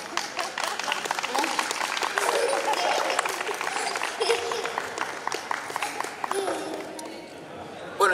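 Audience applauding at a live folk song concert, steady crackling hand claps spread across a room that thin out and fade toward the end, with someone talking over them.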